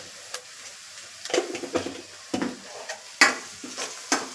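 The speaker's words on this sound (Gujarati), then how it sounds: "લસણ છે તેને આપણે હલકું ગુલાબી થવા દેવાનું છે. એમાં આપણે થોડી હિંગ એડ કરીશું" Garlic frying in hot oil with asafoetida added, a soft steady sizzle broken by irregular scraping and stirring strokes and a few clinks of a spoon against the pan, close and fairly quiet.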